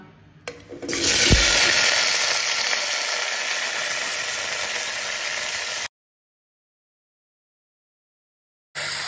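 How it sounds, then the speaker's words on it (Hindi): Chopped vegetables hit hot cooking oil in a pan, giving a loud, broad sizzling hiss that swells quickly, holds steady for several seconds, cuts off, then briefly returns at the end. "यहाँ ऑयल हमारा अच्छे से गर्म हो चुका है, तो इसमें मैं ऐड कर दे रही हूँ अपनी कटी हुई सब्जियां"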